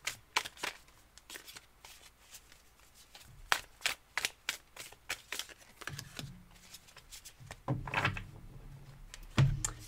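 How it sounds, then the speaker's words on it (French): Oracle cards being shuffled and one drawn during a calm spiritual reading, a run of quick crisp riffling flutters and taps close by, ending in soft handling and a light slap of a card. "je vais tirer une carte"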